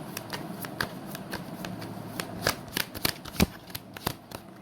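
Tarot cards being shuffled in a steady run of crisp riffling flicks and soft slaps, close and alone with no talk, growing a little sharper toward the end.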